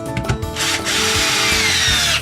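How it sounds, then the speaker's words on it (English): A power drill bores holes through deer antlers for mounting a cape cover kit, its motor whining steadily and loudly, close by, with brief stutters at the start before a sustained run. "Drill 2 holes in your horns."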